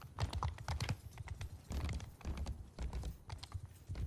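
Horse hooves clatter during a cavalry battle in a video game, a dense, fast clip-clop of many hooves galloping together, close and steady, with no talk.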